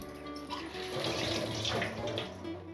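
Water pours steadily into a pot of mutton curry spiced with bay leaves, cinnamon, cardamom and cloves, a continuous close splashing rush lasting a few seconds with no talk over it.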